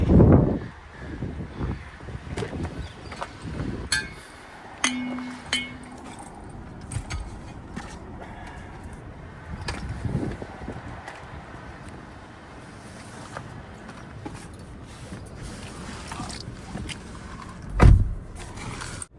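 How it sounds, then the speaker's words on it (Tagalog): A car started and left idling in snowy winter weather in the USA, its low engine rumble running steadily under gusty wind noise, with a jangle of keys and a sharper knock near the end. "Ini-start ko na rin yung kotse."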